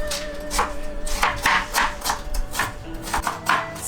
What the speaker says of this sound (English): I'm just going to thinly slice it.